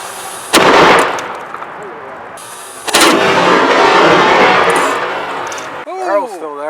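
A sharp, loud blast from a small 3D-printed cannon followed by a second boom and rumbling echo, then a voice speaking briefly at the end.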